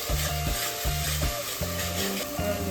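Green masala paste fries in a pan for a Malvani-style crab curry, a steady close sizzle with repeated rhythmic scrapes and stirs of a spoon against the pan, and no one speaking.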